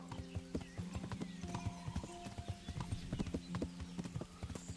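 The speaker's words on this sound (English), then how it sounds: "you can quickly travel with your horse there" Horse hooves clip-clop in a steady trotting rhythm in Kingdom Come: Deliverance, close and clear, with a brief whinny and jingling tack over a low ambient bed.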